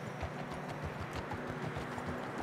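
A horse's hooves clip-clop at a steady trotting rhythm in the snowy landscape of the video game Red Dead Redemption 2, quiet and continuous over a soft wind-like background.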